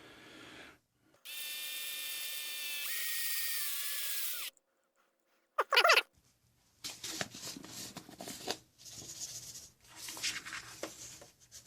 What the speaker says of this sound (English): So now we'll switch over to drill.